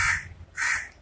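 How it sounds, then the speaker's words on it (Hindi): A crow caws twice, two loud, harsh calls close by with a short gap between them, alone over faint background. "और देखिए कौवा बोल रहा है,"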